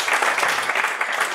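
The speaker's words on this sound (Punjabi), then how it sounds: "ਇੱਕ ਵਾਰ ਫਿਰ ਤਾਲੀਆਂ ਲਾ ਦਿਓ ਸਾਡੇ ਵੀਰ ਦੇ ਨਾਲ" An audience at a Punjabi poetry gathering claps in a dense, steady burst of applause that fills the short stretch, loud and close, with no voice standing out.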